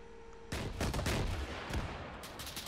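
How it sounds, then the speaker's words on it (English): Rocket launched at a main battle tank in the military video game Arma 3, heard as a sudden loud blast followed by rumbling explosive crackle and further impacts, with no talking. "Let's get another rocket out."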